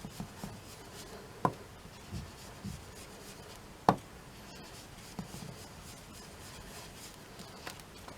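A piece of paper rubbed across a craft surface to apply Vintage Photo ink for an artist trading compact disc: quiet, dry, scratchy strokes repeating irregularly, with a couple of sharper ticks standing out.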